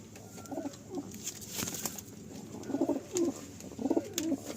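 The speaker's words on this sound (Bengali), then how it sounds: "এখানে এই পায়রাটা দেখুন" Pigeons in a loft give soft, rounded cooing calls in several short repeated bouts, fairly quiet over light background rustle.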